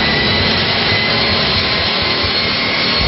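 Killacycle, a 374-volt battery-powered electric drag motorcycle, roars loudly and steadily through a burnout as its rear tire blows off the wheel, a dense continuous whine and rush with no talk over it.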